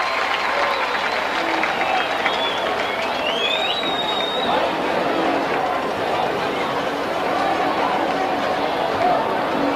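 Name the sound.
high school football crowd cheering at the Astrodome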